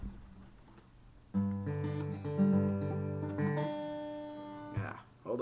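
Acoustic guitar plays the chords of a song in a finger-picked pattern, ringing out clearly and alone for a few seconds after a quiet start, then stopping.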